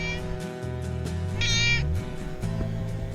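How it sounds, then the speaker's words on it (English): A stray cat meows repeatedly at close range, several drawn-out, rising and falling calls in a row, one of them higher and brighter, heard outdoors with no talking. "This cat met us every morning for our daily swim, rain or shine."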